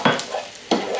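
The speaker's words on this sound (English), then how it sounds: "Now I just need to do the sausage until that browns off on all sides." Sausage slices browning in a frying pan with garlic, heard as two short bursts of stirring and scraping over a close, steady sizzle.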